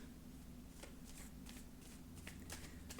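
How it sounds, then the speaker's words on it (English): Tarot cards shuffled by hand during a full moon reading, giving a steady, close papery riffling with soft repeated flicks and a constant low hum underneath. "So I've been shuffling the cards and preparing them"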